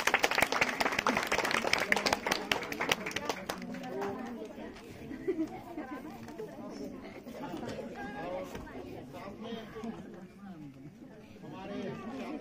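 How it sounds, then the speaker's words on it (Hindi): Applause at a silver jubilee family celebration: loud, dense clapping from the audience over the first few seconds, then fading into crowd chatter and mixed talk for the rest. "पुनः हम लोग इन चारों आदरणीय के लिए जोरदार एक बार ताली बजा देंगे।"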